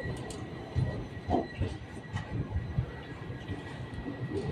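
Train number 07696 running Ramanathapuram to Secunderabad, standing at a station: low rumbling and intermittent metallic clanks and thumps with a faint steady whine, moderately close, no speech.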